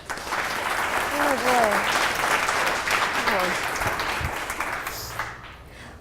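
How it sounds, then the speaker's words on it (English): An audience gives a round of applause for a speaker at a UX and data talk, steady clapping that swells and then tapers off near the end, with a brief spoken exclamation over it. "let's get a nice round of applause for Anna Asnes Becker"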